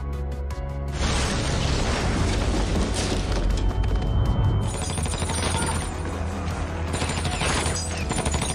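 Heavy gunfire in a film battle between Nazi soldiers: dense bursts of shots and booming blasts run continuously after a brief quieter opening, loud and close with a crashing, chaotic texture throughout.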